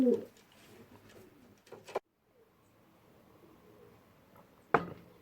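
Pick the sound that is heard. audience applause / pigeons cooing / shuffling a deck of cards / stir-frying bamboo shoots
pigeons cooing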